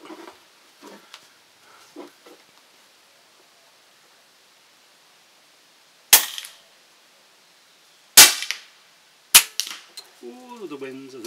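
Three sharp, loud reports from a Steyr air rifle firing JSB Hades pellets at an outdoor range, spaced a couple of seconds apart, with quiet pauses between shots and a voice speaking faintly at the start and end.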